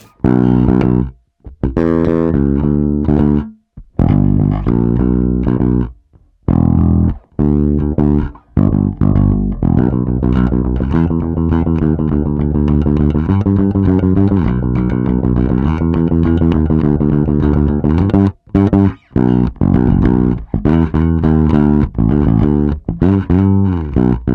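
Bass guitar through an overdrive effects pedal, with an Ampeg-style mid growl, plays a gritty, growling rock riff, loud and close, with a few brief pauses between phrases.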